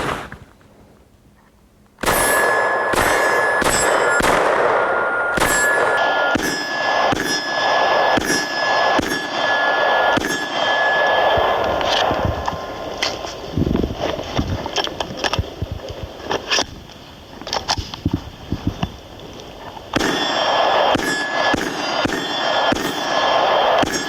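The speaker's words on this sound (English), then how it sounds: "So we'll go ahead and take some shots and see how it goes." Gunshots fired on a range while a Bluetooth noise-cancelling tactical headset is tested, sounding as loud sharp reports with clanging, ringing tails, roughly a dozen shots in irregular bursts after a quiet start, close and alone.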